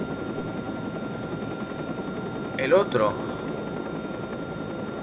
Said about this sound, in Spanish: Ese es el helicóptero.